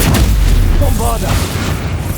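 The Bombarda spell detonates in Hogwarts Legacy with a loud, close boom and a rumbling blast that trails off, plus a brief shimmering magical ring layered over it.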